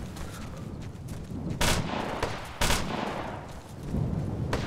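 Rifle gunfire in Operation Flashpoint: Dragon Rising, a military shooter, with two sharp loud shots standing out over a dense background of distant gunfire and battlefield noise.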